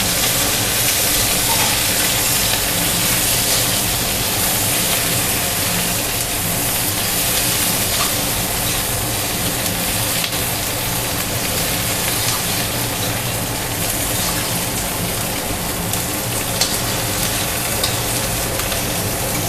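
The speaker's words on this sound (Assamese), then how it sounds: "পিঁয়াজখিনি অলপ ভাজিবলৈ দিওঁ।" Sliced onions fry in hot oil with bay leaves over lowered heat, a loud, unbroken sizzle and crackle from close by that holds steady throughout.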